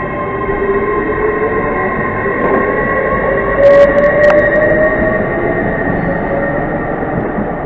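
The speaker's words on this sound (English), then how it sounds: "now departing now is the 1318 service to Worcester Foregate Street" A train pulls out of Reading station with a steady, loud rumble of wheels and engine under humming tones, and a brief squeal midway.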